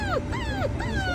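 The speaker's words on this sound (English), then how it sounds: "Oh, my little puppies." Small puppies whimpering and yipping in short high-pitched rising and falling whines, three or four close cries over steady low background noise.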